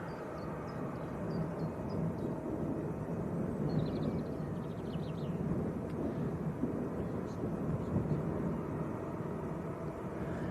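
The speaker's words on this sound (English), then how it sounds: "Number 2 to depart is also a blue and white 737 of Jet2," A Jet2 Boeing 737 departs Manchester Airport, its engines a steady, broad, rumbling roar that lasts throughout with a faint whine on top and some wind buffeting.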